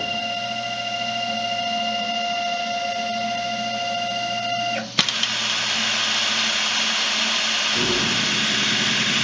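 SRT Summit 2100RD BGA rework station running with its bottom heater coming up to temperature, a steady mechanical whir with tonal hum that shifts to a broader fan-like rush midway, continuing evenly.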